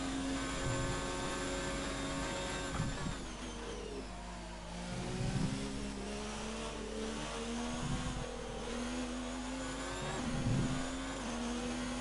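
A Formula 1 car engine in F1 2019 at Monza drones at high pitch, its tone rising through the gears and dropping sharply at several upshifts, steady and loud throughout.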